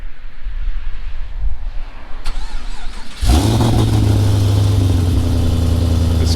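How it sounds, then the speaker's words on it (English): A car cold start that sounds rough and nasty: quiet background for about three seconds, then the engine fires abruptly and settles into a loud, steady, raspy idle with a strong low drone close by. "let's get a cold start on this thing, because it is pretty nasty sounding"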